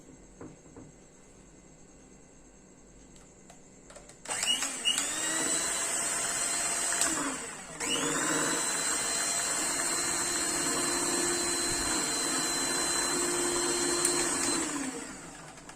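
An ice-apple (palm fruit) dessert mixture being beaten in an electric mixer for a cold summer treat, a steady loud whirring motor starting after a quiet stretch, briefly dipping and then running on evenly.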